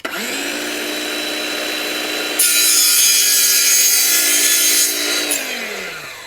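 Power saw cutting a replacement wooden window glazing bead, a loud close whine that rises as the blade bites into the wood, runs steadily through the cut and then spins down.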